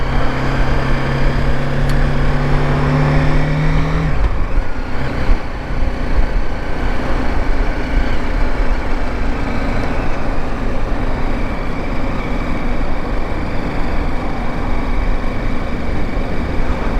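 A rented BMW motorcycle being ridden in Japan, its engine droning steadily and loudly throughout with strong wind and road rush, while a low idle tone fades out early on.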